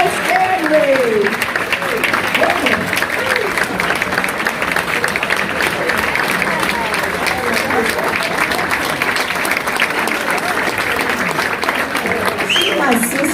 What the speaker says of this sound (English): give this lady a round of applause, I don't know what you will ever for. Give it up for Edna Stanley